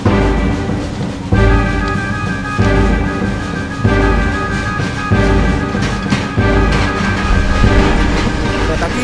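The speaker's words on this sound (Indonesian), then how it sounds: "Kereta kita tuh." A train rumbles past up close, loud and continuous, with rhythmic clacking of wheels over rail joints and a steady tonal hum, faint voices underneath.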